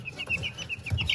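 Young but well-grown chicks kept in a warm brooder cluck softly and repeatedly in a steady, close, low-level chatter with no talking.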